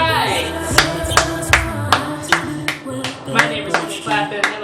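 A few people clap in celebration during a makeup session, sharp hand claps coming in an uneven rhythm close by, with voices and background talk running underneath.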